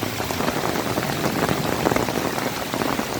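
Heavy monsoon downpour in a village with knee-deep water in the street, a dense, steady hiss of raindrops striking water and surfaces, loud and unbroken throughout.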